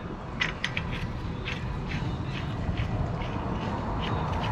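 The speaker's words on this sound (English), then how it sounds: "So what you're gonna do is just spin your nut on," Close metallic ratcheting and clicking as an axle nut is spun by hand onto the threads of a new Subaru front axle, a rapid run of light clicks over a rough, noisy background.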